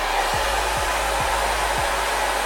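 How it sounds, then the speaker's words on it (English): A blow dryer runs continuously at close range while drying wig lace, a steady loud whoosh with a low hum and a few faint periodic thumps. "get your blow dryer."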